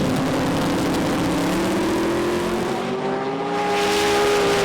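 Nissan GTR and Toyota Supra launching side by side at a Street Eliminator drag race, engines roaring loud and continuous with rising pitch as both cars accelerate down the strip, no talk.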